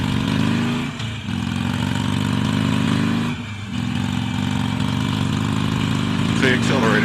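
An Iron 833 motorcycle engine pulls hard and close, a steady droning roar whose pitch climbs through gear changes with brief dips in between, while a rider talks over it.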